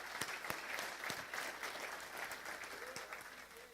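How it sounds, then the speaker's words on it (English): Audience applause at an opening keynote for Doug and his team, with dense, fairly distant clapping and a few sharper individual claps standing out, sustained and then slowly tapering. "how about another round of applause for Doug and his team and everything they're doing?"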